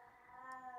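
An elderly, largely deaf 19-year-old cat lets out one drawn-out, harmonic meow that rises slightly and holds, heard faintly and on its own.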